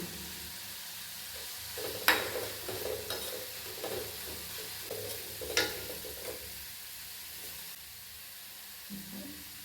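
Curry leaves frying in hot oil for a baby potato masala, giving a soft crackling sizzle with a few sharp pops and spatters, close and moderately quiet, with stirring clatter throughout.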